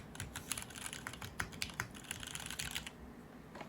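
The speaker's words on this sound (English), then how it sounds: "I will have a little pressing thingy at the end, where you can hear how the keycaps sound when," Rapid, steady typing on a Ramaworks Thermal mechanical keyboard fitted with Cherry Hyperglide switches, with crisp, close key clacks in a quiet room.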